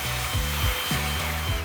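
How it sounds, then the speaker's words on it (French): Leaf blower clearing a path in a bamboo grove, a loud continuous motor roar with a steady airy whoosh and small rhythmic pitch dips, close by and alone. "il n'y a rien de plus simple que le souffleur."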